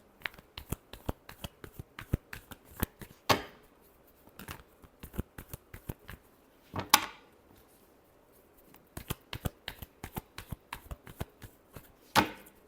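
Tarot cards shuffled by hand in a quiet room, a run of crisp riffling flicks and soft taps with a few sharper slaps, close and fairly faint, no talking.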